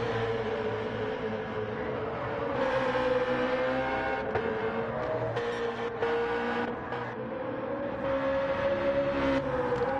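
McLaren race cars in the Gran Turismo 2 video game, racing on the Dragon Trail Gardens track, give a continuous engine whine that shifts in pitch as the cars accelerate and change gear, with no talking.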